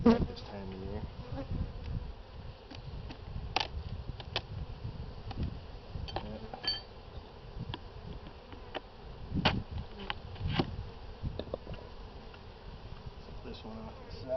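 Honey bees buzz steadily around an open hive during a spring inspection, a close, continuous insect drone with occasional louder passes near the microphone and faint sounds of handling the hive.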